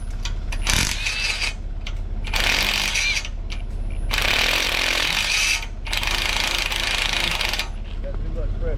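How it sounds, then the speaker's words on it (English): Bolts being loosened and removed from a deer stand outdoors with a power tool, loud buzzing impact-driver bursts of a few seconds each, close, with occasional voices. "Let me go ahead and take these bolts out."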